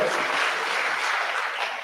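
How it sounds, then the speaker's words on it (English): An audience at a mentorship ceremony claps in a steady, dense round that stays even from start to finish, with no talking over it. "A hearty round of applause for Abigail."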